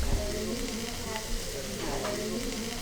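Asparagus sizzles in a hot pan with a steady, faint crackle and hiss, heard alone with no talking.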